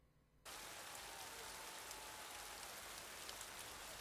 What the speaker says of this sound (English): we're going to go check that out in the rain, in the mud